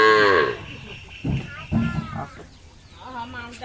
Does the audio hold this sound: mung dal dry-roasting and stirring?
no